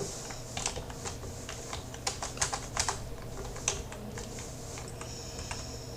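Code being typed on a computer keyboard, a steady patter of light key clicks with a few sharper, louder strokes, close and alone with no talking.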